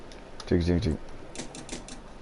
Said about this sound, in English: Use the typewriter.